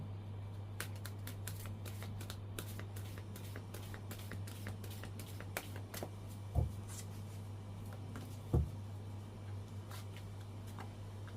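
Oracle cards being shuffled, with faint, quick ticking and riffling clicks over a steady low hum, plus two soft thumps, close and quiet with no talking.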